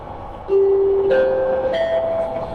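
Commuter train riding toward TMII, a loud onboard tone starting suddenly and holding with shifting pitch over a low rolling rumble of the carriage.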